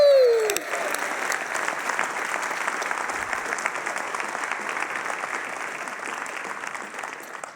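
An audience bursts into applause after a working demo at a cloud conference session, dense steady clapping starting at once and holding near-constant level for about seven seconds before beginning to thin.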